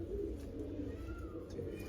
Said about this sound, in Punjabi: ਕੂਲਰ ਵਾਲਾ ਕਬੂਤਰ ਆ ਗਿਆ ਜੀ